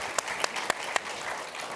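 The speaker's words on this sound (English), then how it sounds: "maybe a big round of applause if we could for some of our morning speakers" A conference audience applauds for the morning speakers in a short, even burst of clapping that sounds moderately close, with a few sharper individual claps standing out.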